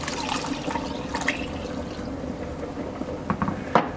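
Beef stock poured into a skillet, a continuous close liquid splash and gurgle lasting a few seconds, ending with a couple of sharper splashes.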